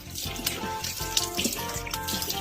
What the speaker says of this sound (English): Rinse it thoroughly with water.